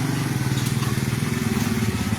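A motorcycle engine runs steadily nearby, a low continuous rumble with a fast regular pulse, holding at a constant level through the whole stretch with no other sound over it.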